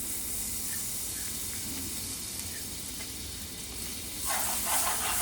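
Butter sizzling in a hot preheated pan over low gas, a steady hissy frying sizzle that grows brighter and louder near the end, no talking.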